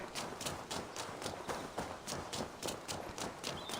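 A horse gallops in the video game Assassin's Creed Valhalla, steady rhythmic hoofbeats in a fast even pattern throughout, moderately close with no talk over them.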